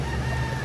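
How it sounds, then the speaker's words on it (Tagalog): Chickens in a backyard coop give a short, faint bit of clucking and crowing-like calls. "Dito po ay sinilip natin ang ating mga manok"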